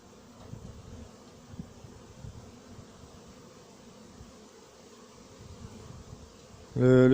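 Honeybees hum in a soft, steady drone close around a beehive inside an anti-hornet mesh tent, with a louder tonal buzz rising sharply at the very end.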